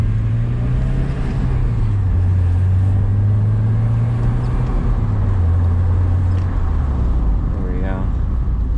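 Porsche 944 coasting with the clutch pressed in over a bumpy road, a steady loud low engine drone with road and wind rumble, the pitch dipping slightly as it rolls.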